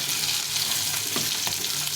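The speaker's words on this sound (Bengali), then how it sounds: "বাকি মাছটাও ভেজে নিলাম।" Fish fries in a pan with a dense, steady hiss of sizzling oil close up, continuous with light spatter, and no speech.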